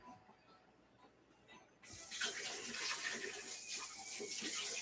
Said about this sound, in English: let's bring the pot over here and add some water to this